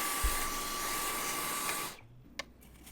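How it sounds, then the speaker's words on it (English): A vacuum cleaner whooshes steadily up close while sucking coffee grinds out of a Jura Impressa grinder, then cuts off, leaving a quiet room with a single small clunk. "Scrape out a little bit of coffee grinds and vacuum it up"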